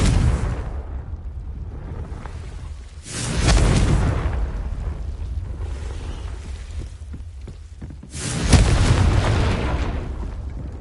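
Spell blasts from the Confringo curse in a Hogwarts video game: two heavy booming explosions several seconds apart, loud and close, each with a rumbling tail, and a steady rumbling bed between them.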